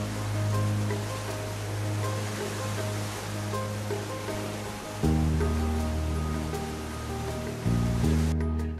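Steady roaring rush of water from lit waterfalls inside a cave with a 70-metre height difference, loud and continuous, no voices.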